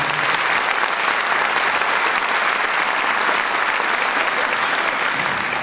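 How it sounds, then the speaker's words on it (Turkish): Dense, steady applause from a concert audience at a 100th-year Atatürk concert with a choir and kanun, loud and unbroken throughout with no voices over it. "kocaman bir alkış istiyorum lütfen"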